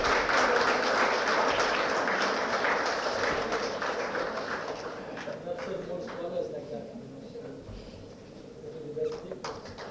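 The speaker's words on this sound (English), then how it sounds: "Can we have a huge round of applause?" Audience applause at an academic conference valedictory award ceremony, a broad wash of clapping that gradually thins and quiets, with some talk underneath.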